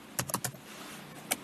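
Close, quiet clicks of keys on a computer keyboard, typed in short bursts of a few strokes with a pause between them.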